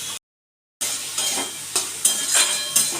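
Potato and cucumber curry frying in a pan with cumin and coriander powder added, a steady sizzle broken by a brief silence near the start, then several scraping stirs, close and moderately loud, with no talk.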